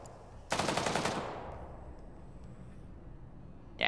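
Burst of rapid automatic machine-gun fire in a convoy-raiding video game, a loud sustained rattle of about half a second that rings out and fades, with a second short burst at the very end.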